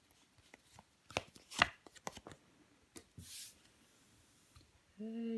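Tarot cards handled and laid out on a table: soft slides, taps and shuffling flicks in scattered bursts, quiet and close, with a short voice at the end.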